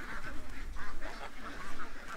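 Ducks in a yard near a creek quack in a rapid, overlapping chorus, steady and fairly close throughout the short stretch.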